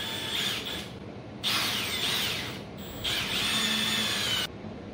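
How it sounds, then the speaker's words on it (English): A power drill runs in two sustained bursts, whining steadily as it bores holes for M4 tapping on a milling machine servo motor mount, with a short pause between them; close and fairly loud. "Drill them out."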